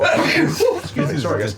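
A single sneeze bursts out amid lively conversation at a tabletop Dungeons & Dragons game, with several voices talking around it at close range.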